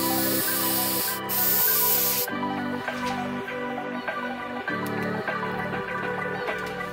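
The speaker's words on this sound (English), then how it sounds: "we'll glue this bolster together using 3M Super 77 spray adhesive" 3M Super 77 spray adhesive sprayed onto car seat bolster foam during a Miata seat repair, a loud hissing burst of a couple of seconds, then softer short spritzes over a repeating background tune.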